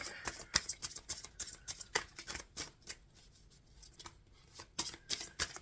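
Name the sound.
shuffling a deck of cards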